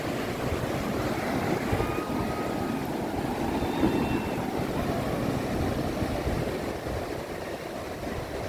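Sea waves wash steadily on the beach at Sidi Kacem in Tangier, a continuous broadband roar of surf with some wind, fairly even in loudness and without talk.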